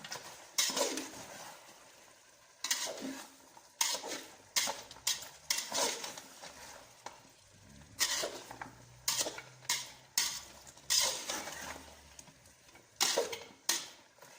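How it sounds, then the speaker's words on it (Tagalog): A utensil stirs broccoli and chopped liver in a cooking pan, giving repeated scraping clinks in uneven bursts with quieter gaps and a soft low sizzle underneath. "At haluin natin guys para maisabay siya sa sahog pagluto."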